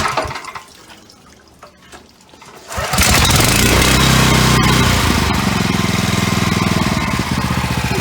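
A van-mounted hot steam pressure washer engine starts from choke after a quiet lead-in, then settles into a loud, steady, close running drone with a watery hiss, and no one speaks.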